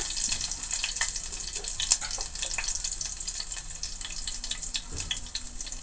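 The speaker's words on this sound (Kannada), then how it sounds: "ಸ್ವಲ್ಪ ಕೊತ್ತಂಬರಿ ಹಾಕಿದ್ದೀನಿ ರೀ ಎಣ್ಣೆ ಒಳಗೆ" Coriander sizzles in hot oil while cooking drumstick palya, a steady hiss with faint stirring clicks running alone throughout.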